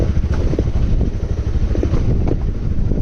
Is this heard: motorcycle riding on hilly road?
yes